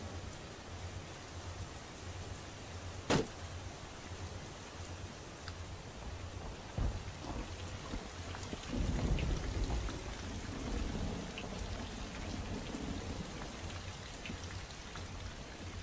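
Steady rain falls in the video game Revelations 2012, a constant hiss of drops on surfaces with a few faint thunder rumbles and sharp ticks along the way.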